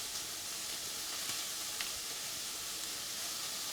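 Onions cooking in a pan on high heat give off a soft, steady sizzle and hiss, quiet and continuous with a couple of faint pops.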